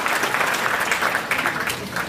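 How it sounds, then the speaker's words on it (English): Banquet audience at a school district recognition dinner applauding the country club staff, a dense steady wash of clapping from a large room throughout. "Let's give them a round of applause"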